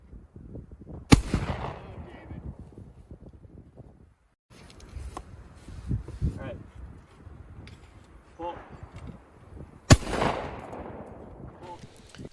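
Gunshots fired at a shooting range, two sharp loud reports several seconds apart amid quieter background clatter, with people talking in between.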